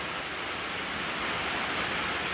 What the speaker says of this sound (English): it's supposed to rain all day today